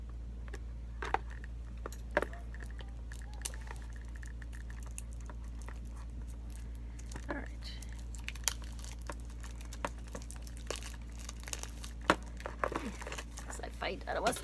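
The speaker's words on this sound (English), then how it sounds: "I'm gonna fight with the plastic again to get them off" Plastic wrap crinkles and crackles in scattered bursts as it is pulled off a tarot card deck, the Everyday Witch Tarot, close by over a steady low hum.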